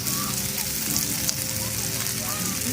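Grilled pork sizzles steadily on a grill at a campsite in Saraburi, a close, dense crackle that runs unbroken throughout.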